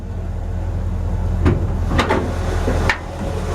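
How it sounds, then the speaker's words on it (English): A few sharp mechanical clunks and a latch-like click over a steady low engine rumble, as the hood of a 1955 Chevrolet 3100 pickup is released and lifted. "I'm gonna pop the hood one more time."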